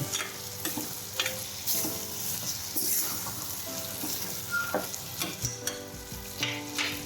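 Undhiyu vegetables being stirred and sautéed in oil, with a steady sizzle under repeated scraping and clattering strokes of a spoon against the pan, up close and alone.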